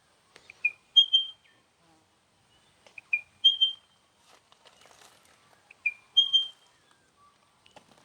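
A recorded bird call played back from a phone app during a forest birdwalk at Forest Creek, Castlemaine, Victoria: three clear, high whistled phrases, each a short chirp then a longer sliding note, separated by silences.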